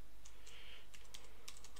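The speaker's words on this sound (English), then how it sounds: "I'm not using enter, I'm just typing in the words." Rapid typing on a computer keyboard during live coding, with irregular light clicks and taps close up, no voices over them.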